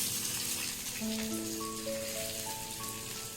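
Onion hitting hot mustard oil, giving a steady, fairly quiet crackling sizzle like light rain, with a soft melodic tune playing over it.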